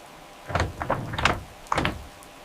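A door closing in an animated cartoon, heard as a few short knocking thuds and a scraping slide in quick succession, moderately loud against a quiet background, with no speech.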